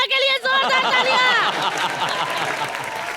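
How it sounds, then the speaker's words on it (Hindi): Clapping from a comedy show studio audience, the applause steady and full, mixed with a loud whooping cheer and crowd noise. "और हमारे धारावी के प्रभु देवा के लिए जोरदार तालियां"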